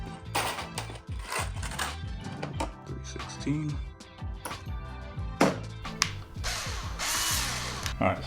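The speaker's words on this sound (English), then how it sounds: "Drill a hole. Let's get my drill." A handheld power drill bores a hole into a wall to mount a swag hook, with loud, close whirring bursts that rise and stop, plus clicks and handling noise between them.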